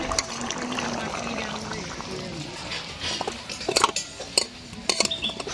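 Ingredients poured into a pan of pona fish curry with potatoes and drumsticks; a steady wet pouring texture runs close by, followed by a few sharp utensil clinks toward the end.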